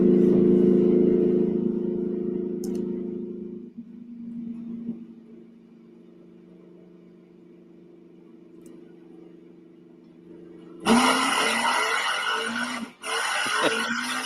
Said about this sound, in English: Whose car is that?